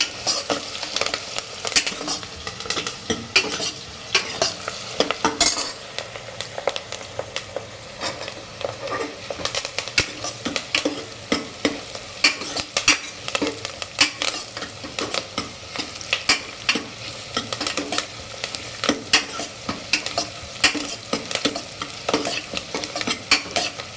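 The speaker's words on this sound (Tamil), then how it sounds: "வெங்காயம் வதக்கியாச்சா, இன்னும் கொஞ்சம் வதக்கணும்." Onions with curry leaves sautéing in a pan for a radish sambar and cabbage-style gobi palya meal, with steady close sizzling and frying crackle broken by repeated scraping stirs throughout, no talking.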